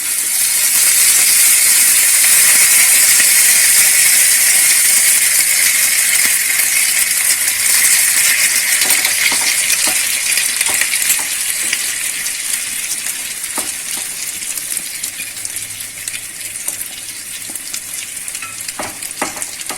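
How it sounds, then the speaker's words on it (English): Noodles fry in hot oil in a hot pan, a steady loud sizzle with hissing steam that eases slightly toward the end, with occasional clicks of stirring or utensils and no voices. "the oil is hot, the pan is hot, and I am just going to add this noodles"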